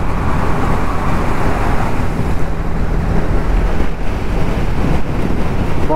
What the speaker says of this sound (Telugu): విండ్ అయితే హెవీగా వస్తుంది ఇక్కడ